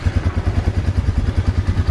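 A Honda four-wheeler engine running close by at a steady idle, a low rhythmic chugging pulse with a light mechanical clatter.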